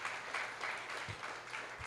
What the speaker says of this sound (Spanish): Sí, dale un aplauso fuerte,